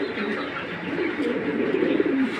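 Large racer pigeons, breeding pairs, cooing nearby in a loft: soft, throaty, repeated coos over a low background murmur, with no talking.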